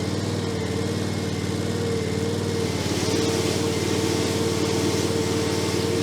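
Ride-on Westermann brush sweeper with its engine running and brush turning, a loud steady close engine drone with a rotating churn that rises slightly partway through as it revs.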